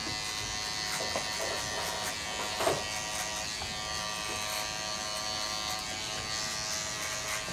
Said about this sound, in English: You can always hear when your blades are still cutting.